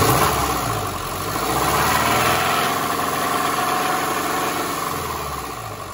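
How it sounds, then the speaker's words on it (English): A 1999 Subaru Forester's EJ25 engine runs loud and close, its steady drone swelling slightly as the throttle opens and then settling, with an unidentified noise under the engine. "So when I open throttle"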